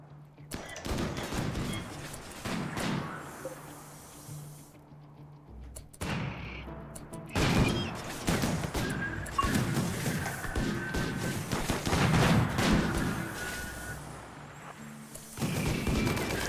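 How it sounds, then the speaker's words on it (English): Sustained gunfire in the RimWorld video game as raiders shoot at tactical turrets: dense, continuous rattling volleys and crashing bursts, loud and close, with brief lulls between barrages. "they're shooting at the tactical turrets"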